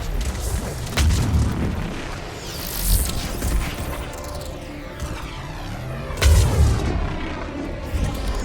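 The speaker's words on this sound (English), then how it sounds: "Missiles are hot. Missiles away." Missiles launch and explode during a Mass Effect 3 battle, a series of heavy booms and crashes with whooshing launches, two especially loud blasts standing out over a constant rumbling combat din.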